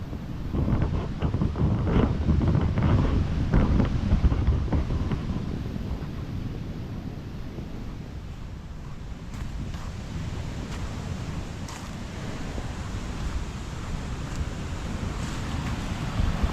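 Sea waves surge onto an eroding shoreline beside houses, where the coast is being eaten away despite a breakwater. The churning water makes a continuous roar, heavily buffeted by wind on the microphone.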